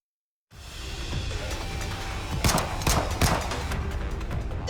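Gunfire in the anime-style shooter game Goddess of Victory: NIKKE, a dense burst of several sharp cracks over a roaring, noisy background, loud and close with no talk.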